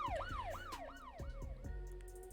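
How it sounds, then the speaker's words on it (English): An emergency siren wails outside with a rapid rising and falling yelp, several sweeps in a row, loud and continuous with no talking. "as the siren is going off like"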